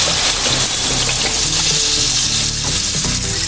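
Water poured from close by into a pot of tomatoes for soup, a loud, steady, continuous gush and rush that fills the whole moment without a break, with no one talking.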